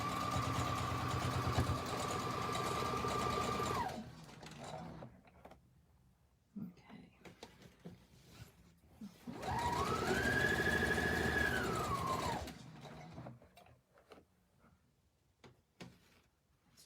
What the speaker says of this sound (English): We're just going to put a line of stitching to attach this.